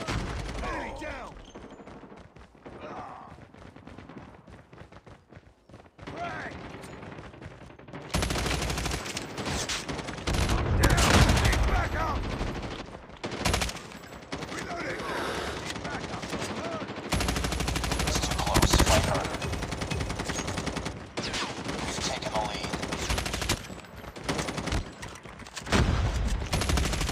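Bursts of automatic gunfire in Call of Duty Mobile, sustained rapid shooting in several long volleys and sharp single cracks, loud and close, with occasional in-game voice callouts among the shots.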